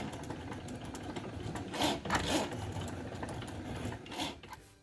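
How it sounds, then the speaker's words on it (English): Cricut cutting machine slicing a design, a steady mechanical whir with short louder whirring bursts as the carriage moves, fairly quiet and close. "I'm going to pop this in a machine and cut it out."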